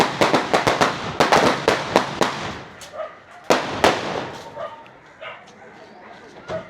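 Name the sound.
firecrackers exploding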